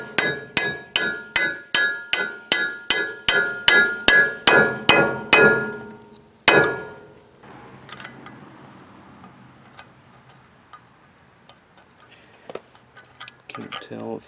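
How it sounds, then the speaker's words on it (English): A hammer taps a U-joint into the yoke of a 1968 Kenworth W900A truck with an 8V71 two-stroke engine, striking about a dozen sharp ringing metallic blows in an even rhythm, then one last hit followed by faint clinks and quiet handling. "Hold up on the U-joint as I tap this in."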